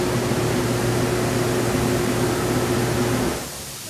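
Ozone bubbles fizz in an Arctic Spas Totem hot tub with salt water, a steady close rushing hiss over a low mechanical hum that drops away sharply near the end.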